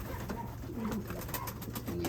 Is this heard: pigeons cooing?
yes